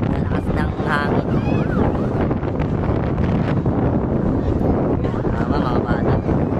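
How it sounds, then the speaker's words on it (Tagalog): Strong wind roars steadily and loudly near a residential fire in Aroma, Tondo, Manila, with voices faintly mixed into the constant gusting rush. "Sa lakas ng hangin."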